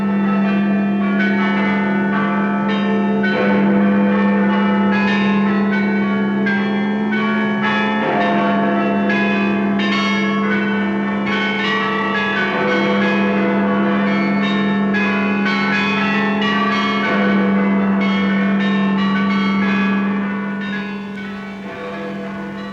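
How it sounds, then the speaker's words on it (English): Church bells peal continuously in a dense, overlapping ring of many tones, loud and sustained throughout, with a steady low hum beneath, rung out in wartime Britain in 1944. "Now the bells rang out a song of thanksgiving, a song of victory."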